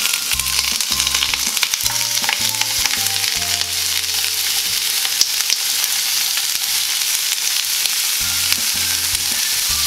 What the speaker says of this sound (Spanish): sofreír por ahí 5 minutos